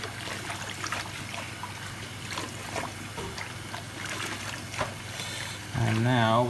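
Tap water runs steadily into a bowl with Tide washing powder, a soft continuous trickle and splash that swells louder near the end.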